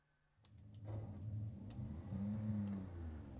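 Honda NSX engine pulling out of the pits at Portimão circuit, rising from quiet into a steady, swelling mid-pitched drone as the car accelerates away, heard from on board and sustained to the end.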